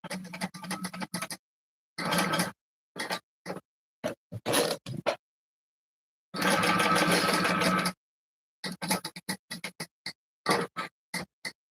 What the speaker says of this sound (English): And then I'm just going to start stitching.